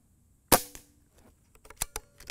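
A Benjamin Marauder .22 air pistol fires an H&N Sniper pellet in one sharp, loud crack that decays quickly, followed by several fainter clicks and ticks, with no voices.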